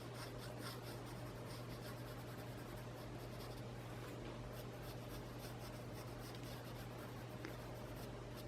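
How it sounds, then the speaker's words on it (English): A pencil shades on paper in continuous, close scratchy strokes, a steady rasping hiss with a low constant hum underneath and no talking. "I'm going to shade all my little orbs."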